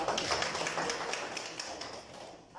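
An audience at a meeting of aspiring women leaders in Murang'a claps for itself, a quiet, somewhat distant wash of many hands with regular strike accents that thins out near the end.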